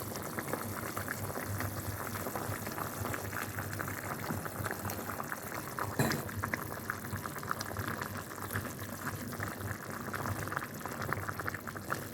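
A pot of sundaikai prawn kulambu bubbles steadily at a rolling boil, a continuous close gurgling and hissing with no talk.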